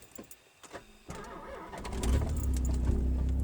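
A Nissan 300ZX with a dead clutch pedal cranks and starts after a few faint clicks and rustles, the engine catching and settling into a loud, rough idle for the last second and a half.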